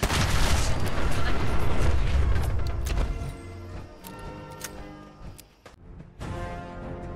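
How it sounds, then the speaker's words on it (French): Explosions in the video game Fallout 4, heavy booming blasts with deep rumbling low end and scattered crackling debris, loud at first and then fading into sparser bursts. "Des explosions!"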